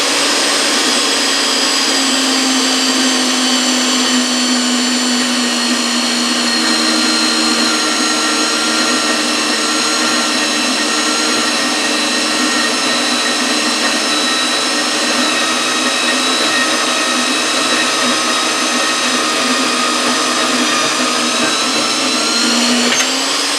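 A Scheppach MBS1100 bandsaw runs steadily with its blade riding slightly up and down, producing a loud, constant motor whine and whirring hum that holds unchanged and close for over twenty seconds without speech.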